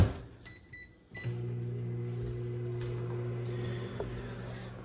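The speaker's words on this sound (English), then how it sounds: "put it in the microwave for about 30 seconds." After a few faint clicks, a microwave oven starts with a low steady hum and drones on evenly as it heats water.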